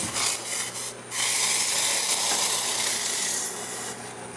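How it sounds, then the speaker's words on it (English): Water boiling hard on a small induction burner, a dense, continuous rushing hiss of bubbling that swells slightly after the first second and stays loud and steady. "this water is boiling much more violently than the other one"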